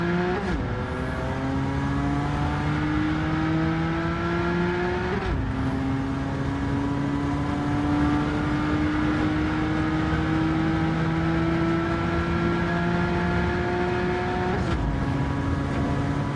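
A racing car engine in Gran Turismo 7 drones steadily at high revs, pitch climbing slowly before dropping sharply at two power shifts, loud and continuous.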